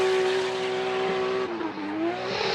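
A Nissan S15 Sylvia drift car on track at Fuji International Speedway holds a loud, sustained high engine drone, dipping briefly in pitch as the throttle lifts and then climbing again, close and alone with no talk.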